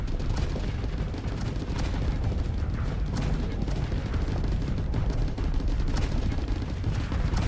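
Steady, dense weapons fire in a Starsector space battle, a continuous rumbling barrage of booms and shots with no break.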